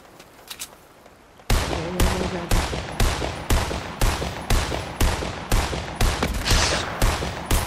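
Gunfire in Fortnite OG: after a brief quiet start, a steady run of about a dozen loud, evenly spaced shots bursts out, sharp and close, with no talk over it.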